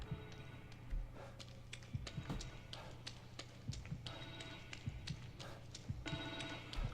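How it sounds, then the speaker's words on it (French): Through a noisy, faint background, a telephone rings in repeated bursts of shrill trilling, with clattering knocks scattered between the rings. "Et un téléphone."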